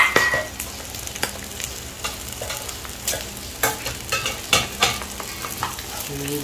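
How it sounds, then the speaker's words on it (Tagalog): Sisig sizzles and bubbles in a hot pan, with scattered spatula scrapes and stirring clicks over a steady frying hiss. "Naririnig nyo na guys. Parang kumukulo-kulo na agad."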